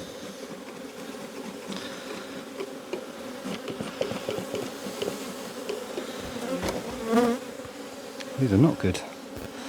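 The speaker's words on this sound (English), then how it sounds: "these bees are terrible" Honey bees of Black Mountain stock drone around an opened hive, a steady close buzz with louder swells as individuals fly past, while a person speaks briefly.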